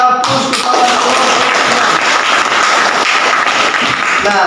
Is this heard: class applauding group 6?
yes